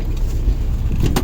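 The spring-assisted rear tailgate of a 1992 Toyota 4Runner 22RE is lifted open, a brief low mechanical rumble that ends in a short, sharper clunk, close up with no talking.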